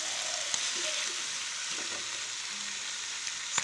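Squid stir-fries in a pan with ground pepper and onion, a loud, steady sizzle filling the clip, broken by faint scrapes of stirring and no voices.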